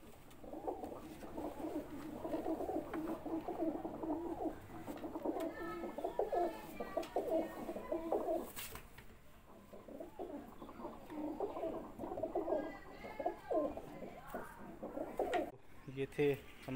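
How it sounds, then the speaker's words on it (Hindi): Pigeons in an old cage coo repeatedly, soft rolling calls that go on throughout at moderate distance, with faint background noise. "ये थे हमारे कबूतर।"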